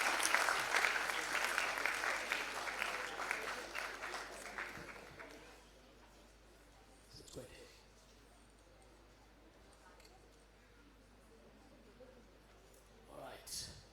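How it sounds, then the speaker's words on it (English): Loud audience applause in a hall at a regional quiz finals as a prize winner walks up, dense clapping that fades away after about five seconds, leaving quiet room sound with a few faint bumps and brief voices. "Come on, guys. Keep the applause going."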